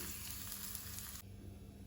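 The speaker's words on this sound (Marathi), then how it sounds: "ही आल्याची फोडणी आतां हाजेर घालुया आमी" Hot ghee with chopped ginger hisses and sizzles steadily as the tempering hits a chickpea curry, a faint but continuous frying crackle that drops a little partway through.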